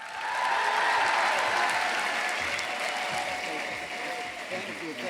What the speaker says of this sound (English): applause for Dave Karger.